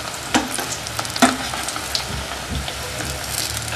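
Banana bajji dipped in gram flour batter fries in hot oil, a steady soft sizzle and crackle with a couple of sharper pops as pieces drop in.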